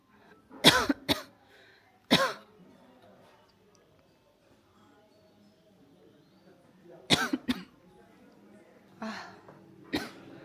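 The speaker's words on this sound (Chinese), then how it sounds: "我一进这个房间就特别想咳嗽" Several sharp coughs close by in an old room of a Taoist temple on Qingcheng Mountain, a pair at the start, one alone, then another cluster later, with faint voices murmuring in between.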